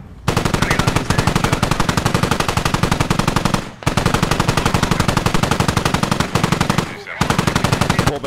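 Automatic gunfire in the military shooter game Squad, loud rapid bursts of close machine-gun fire in three long strings separated by brief pauses.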